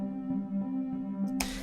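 A sustained synth lead from a beat's hook holds a steady tone with slight pulsing swells, ending abruptly in a short burst of noisy hiss.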